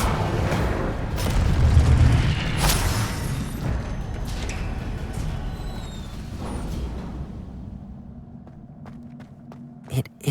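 An Incendio fire spell in Hogwarts Legacy erupts in a loud booming blast with rumbling flames and crackle, slowly fading to quieter footsteps and a few light knocks.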